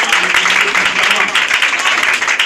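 An audience at a church testimony applauds, a dense, close burst of clapping with a voice speaking through it.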